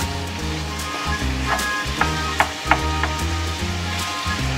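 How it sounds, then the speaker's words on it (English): Mince frying in a pan sizzles steadily with a crackly hiss, a few sharper pops and faint clinks, close and moderately quiet with no talk over it. "Sizzling away, Sharon."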